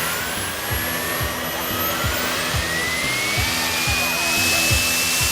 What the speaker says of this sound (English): I got a jet engine strapped to the skateboard. All right, fire it up.